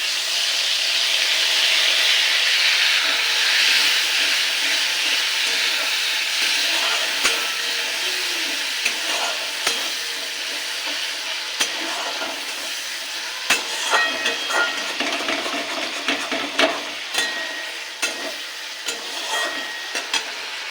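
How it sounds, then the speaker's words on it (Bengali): Five-spice seeds and onion paste fry in hot oil, giving a loud, steady sizzle that settles into a continuous hiss with scattered pops and spatters throughout. "তেলে দেবো পাঁচফোড়ন ফোড়ন দেবো পেঁয়াজ বাটা"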